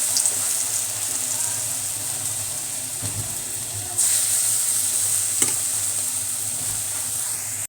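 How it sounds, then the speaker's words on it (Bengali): Lentil fritters (dal bora) fry in very hot oil with a steady, bright sizzle throughout, loud and close, with a brief surge partway through and a few faint clinks of stirring. "একটু বড়াগুলো ছেড়ে দিয়েছি এরকম তেলে"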